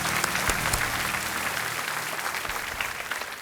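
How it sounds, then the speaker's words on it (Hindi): A studio audience on a televised quiz show applauds with steady, sustained clapping that fills the room at a constant level, with no talking over it. "तालियों के साथ इनका हम अभिनंदन करते हैं।"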